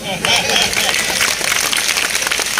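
A crowd at a Hindi comedy poetry gathering in Rajnandgaon claps in a dense, fairly loud burst of applause, with a voice speaking over it.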